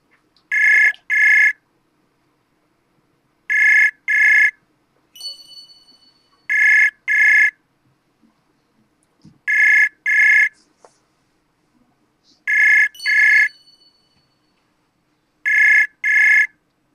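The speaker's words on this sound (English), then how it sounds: "Okay, Sajjad, so I'm calling you. I hear it ringing" An outgoing phone call rings back with paired electronic ring tones repeating every three seconds or so, loud and clear over silence, with a few faint clicks in between.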